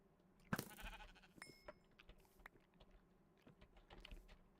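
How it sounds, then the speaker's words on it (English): A faint bleat of a sheep in Minecraft, brief and soft, with clicking keys and mouse taps going on underneath. "ooh, another sheep over here."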